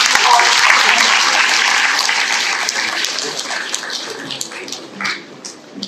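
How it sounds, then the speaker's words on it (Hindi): Loud, dense applause from the audience at the Arogya Fair & AIACCON 2024 inauguration and award ceremony, sustained for several seconds and slowly tapering, with a voice briefly heard underneath. "आप सारे लोग वापस हमारे सारे अतिथियों के लिए जोरदार तालियां।"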